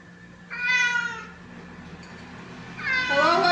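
Hungry cat meowing close by, two drawn-out, rising-and-falling meows separated by a short pause, loud and clear over a quiet room.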